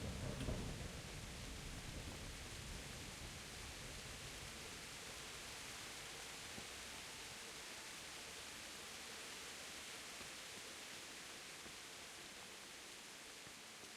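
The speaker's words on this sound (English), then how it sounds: "The thunder sounds really cool." Steady rain and rolling thunder in the medieval role-playing game Kingdom Come: Deliverance, a dense hiss of downpour with a louder rumble at the start that settles into a constant wash, no talk over it.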